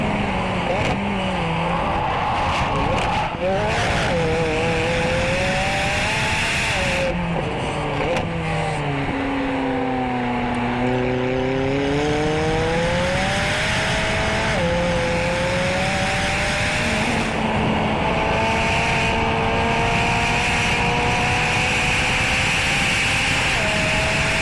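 Sports car driving with a steady loud engine drone that rises and falls through gear changes and revs, heard from inside or close by for the whole stretch, with no clear talking.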